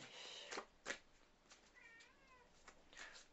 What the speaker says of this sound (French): Je sais pas si du coup vous pouvez l'entendre miauler, mais elle miaule.